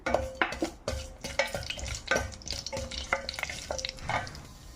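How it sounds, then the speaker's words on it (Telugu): Cumin, mustard seeds, urad dal and chana dal crackle and sizzle in hot oil while a spoon scrapes and stirs the pan in quick, irregular strokes. "తాలింపు వేస్తున్నాను జీలకర్ర ఆవాలు మినపప్పు శనగపప్పు"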